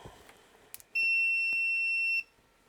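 A multimeter gives a single steady, high-pitched continuity beep lasting just over a second while probing a guitar overdrive pedal circuit, clear and close on a quiet bench.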